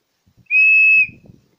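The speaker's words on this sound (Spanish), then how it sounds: "me llamó mucho la atención mi silbatito este" A small whistle gives one clear, steady, high-pitched blast of about half a second, loud and close, followed by faint rustling.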